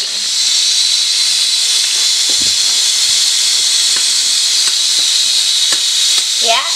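Tomato paste and spices sizzle loudly in a hot pan, a steady close hiss with occasional scrapes and clicks of stirring.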